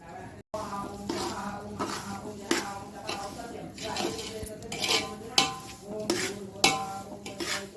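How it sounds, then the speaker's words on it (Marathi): Semolina being roasted and stirred in ghee in a pan for sheera, with repeated scraping and clinking of a utensil against the pan over a low sizzle, close and steady throughout. "हे मी असं अजून चांगलं भाजून घेते आहे"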